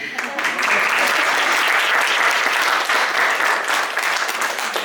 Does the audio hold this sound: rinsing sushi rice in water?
no